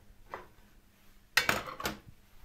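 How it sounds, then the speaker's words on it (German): A frying pan is handled on the stove as cooking oil goes in before sautéing meat: one faint knock, then a short cluster of close metallic clanks and scrapes. "In der Zwischenzeit tue ich das Öl in die Pfanne, dass das Öl nachher auch richtig schön heiß ist."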